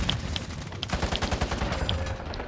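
A gun in a video game fires in rapid, repeated shots, a loud, close string of snappy bursts with no talking over them.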